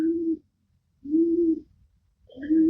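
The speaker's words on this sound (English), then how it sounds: "Oh, that pigeon." A pigeon coos close by in three low, hollow, mellow phrases separated by short pauses, alone with no talk.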